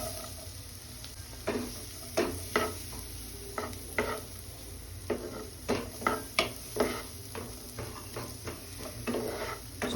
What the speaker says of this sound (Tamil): இதில் இப்போ நம்ம சின்ன சின்னதாக வெட்டி வச்சுருந்த குடமிளகா ஆட் பண்ணிவிட்டு இந்த மாதிரி நல்லா கிளறி விடணும்.